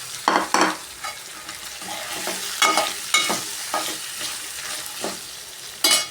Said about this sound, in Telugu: ఈ ఆలుగడ్డలు బాగా దూరగా వేగాలి.